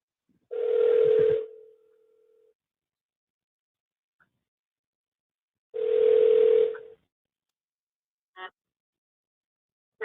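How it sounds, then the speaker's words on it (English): Telephone signal heard while placing a call: two separate long electronic tone bursts several seconds apart, each with a brief trailing note, then a short faint beep near the end, clear and close with no voice. "So I'm call her on the phone"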